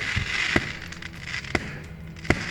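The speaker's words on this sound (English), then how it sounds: "Look at the fireworks." Fireworks going off at a birthday celebration by a parking lot, heard as three sharp bursts spaced about a second apart over a steady rumbling background.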